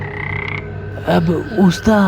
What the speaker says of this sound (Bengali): ব্যাঙের ডাক ছাড়া আর কোনো শব্দ নেই।